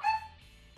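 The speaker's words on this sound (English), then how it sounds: "We are here at House of the Doll with six dogs in the background." Dogs bark faintly in the background while a podcast is recorded, one short yip up front followed by low, muffled room noise.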